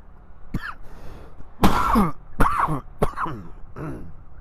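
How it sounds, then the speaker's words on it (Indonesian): A person coughs and clears their throat several times in a row, loud and close, with short pauses between the bursts. "Oke, maaf batuk-batuk ya."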